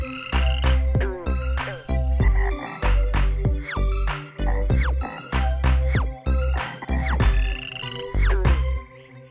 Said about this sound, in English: A green frog ribbits real loud